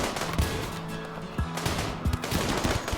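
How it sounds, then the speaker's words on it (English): Gunfire in a RimWorld battle against raiders: sharp, scattered shots and short bursts, fairly close, with game music underneath. "The rest of the boys spread out and return fire."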